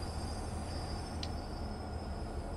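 A train brakes in the railway simulator Train Life, a dense, steady low rumble of rolling stock with a faint brief squeal partway through, with no voices.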